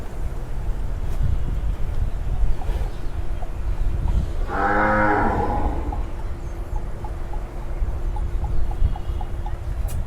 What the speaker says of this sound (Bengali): আপনার শাহিয়াল দুই দাঁতের গরু